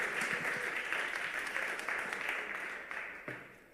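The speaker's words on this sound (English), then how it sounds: "Give a good round of applause for Anna." An audience at a nomad-lifestyle conference claps for a presenter, a dense sustained round of applause that slowly tapers off over a few seconds.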